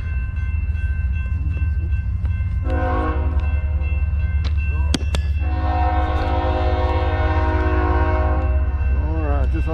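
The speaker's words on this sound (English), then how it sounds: "I'll bet it's a short train because he took off quick." A Norfolk Southern freight train departs near Sweetwater, Tennessee, its loud horn sounding in several long blasts over a constant low diesel rumble and rail noise, heard close and continuous.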